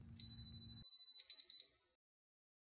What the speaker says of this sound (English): When the timer beeps, the instrument will read the sample and the result will be displayed.